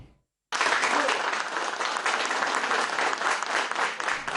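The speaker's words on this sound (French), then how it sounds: "C'est avec ces applaudissements des journalistes algériens présents ici à Douala que Djamel Belmadi a débuté son point de presse" Algerian journalists at a press conference in Douala clap steadily and loudly, a dense, sustained applause that starts abruptly after a brief silence and continues without letup.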